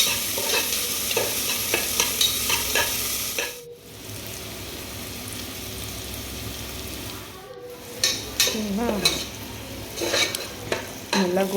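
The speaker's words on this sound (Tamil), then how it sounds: "இப்போ நம்ம பொடி பொடியாக கட் பண்ணி வச்சேன் வெங்காயத்தை சேர்த்து நல்லா வதக்கணும்." Chopped onions sautéing in a pan, a steady broadband sizzle broken by stirring scrapes and two brief pauses, close and fairly loud, with a faint voice now and then.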